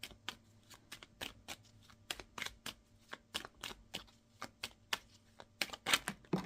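Tarot cards are shuffled in quick irregular bursts of crisp riffling, close and fairly quiet, with no voices.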